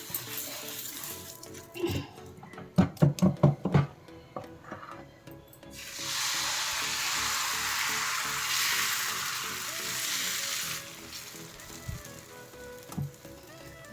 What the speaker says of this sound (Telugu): వేడి దోశ బ్యాటర్తో మరో దోశ పోసుకుందాం